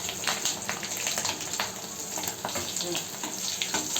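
Steady, dense crackling sizzle of chillies frying in hot oil, continuous and fairly close, with no one speaking.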